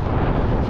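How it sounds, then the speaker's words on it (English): Wind buffets a microphone during a windy morning run near the Rocky Mountains, a brief, loud, continuous low rumble filling the short stretch with no other sounds. "What a spectacular morning. Windy as hell though."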